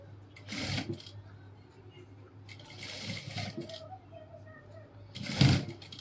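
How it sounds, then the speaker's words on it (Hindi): A sewing machine stitches a ladies' coat dress in short bursts of rapid whirring separated by pauses, the last run loudest, with a low steady hum beneath and faint talk at times. "इसको अब सिलाई मारना है तो पूरा आधे इंच के हिसाब से"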